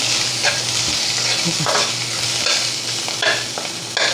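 Onion and vegetables fry in a pan over high gas, a loud continuous sizzle with repeated stirring scrapes of a spoon against the pan, close and busy.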